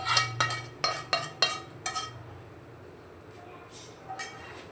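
A spoon working through malida with ghee in a pot, giving a quick run of sharp metallic clinks and scrapes at the start, then a quieter stretch with a couple of softer knocks near the end.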